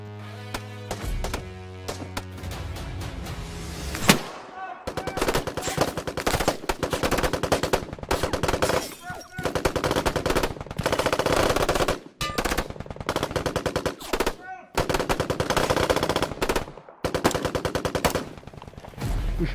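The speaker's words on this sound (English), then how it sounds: "So, we take cover and return fire." Loud rifle and machine gun fire in a firefight, long rapid automatic bursts separated by brief pauses, with a few single sharp shots near the start.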